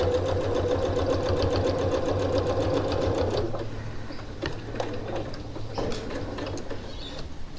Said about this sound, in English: now I'm just going to continue stitching all the way to the end